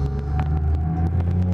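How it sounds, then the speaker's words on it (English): Big Daddy rumbling nearby in the BioShock Infinite: Burial at Sea game, a deep, steady low drone with heavy throbbing rumble, continuous and fairly loud, with faint clanking accents over it. "I hear a big daddy."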